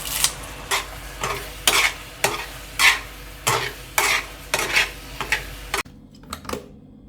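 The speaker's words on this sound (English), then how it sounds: "the sauce thickens, coating the meat in a shiny amber color before scattering the green onions on top" Caramelized pork belly in a thickening sauce, stirred in a pan with a run of regular utensil scrapes and clinks over a low bubbling sizzle, close by, ending in near quiet with a couple of faint taps.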